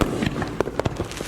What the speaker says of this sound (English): Here goes another canister shell going out.